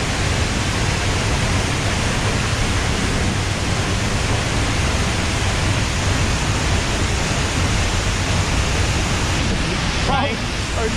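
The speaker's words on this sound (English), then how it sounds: "It's a decent waterfall." A waterfall swollen by weeks of rain roars steadily and loudly from nearby, a dense unbroken rush of water that fills the whole stretch.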